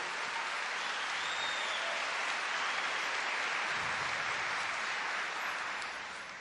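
Full, sustained applause from a church congregation during a Catholic service, a dense wash of clapping that holds steady and then begins to fade near the end.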